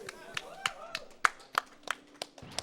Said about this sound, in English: Round of applause for all of our competitors.